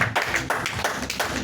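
A church congregation claps together in praise of God, giving a fast, steady run of loud, close handclaps in an even rhythm with no talking.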